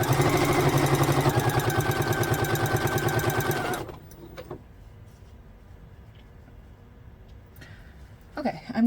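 A sewing machine, owned for about twenty years, stitches quilt triangles cut from thrifted men's shirts in a steady rapid chatter for several seconds, then stops, leaving quiet handling noises.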